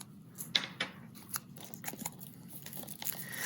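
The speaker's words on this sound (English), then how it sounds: "let's go ahead and undo the plastic wrap" Plastic shrink wrap being cut and peeled off a boxed disc set, with a series of close, sharp crinkling and snipping bursts at an irregular pace.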